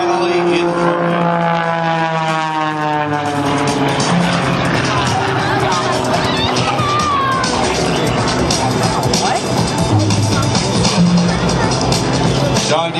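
At an air show, Sean D. Tucker's aerobatic airplane returns for a ribbon-cutting pass, its engine droning loudly and shifting in pitch, with an announcer talking over it throughout.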